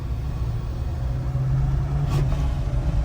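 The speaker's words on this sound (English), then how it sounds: "when you floor it and let off, the turbo actually kind of makes some noises" A steady low diesel engine rumble from a Duramax L5P truck idles close by, with a brief faint turbo whoosh partway through; no voices.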